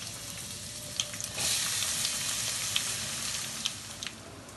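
Garlic and onion going into hot lard for Moroccan harira, a steady broadband sizzle that swells a little after the first second and holds, with a few sharp spits and pops, close and fairly quiet, no talk.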